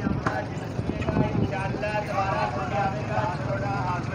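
Horse hooves clip-clop irregularly on the ground at an outdoor horse market, several sharp knocks early on, with someone talking over much of it.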